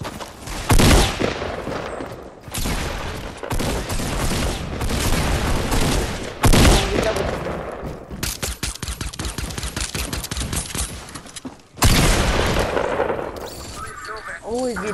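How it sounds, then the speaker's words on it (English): Repeated bursts of automatic gunfire in the Fortnite video game, with loud blasts and rapid volleys nearly throughout, while players talk over it. "he's gonna shoot me down, Michael."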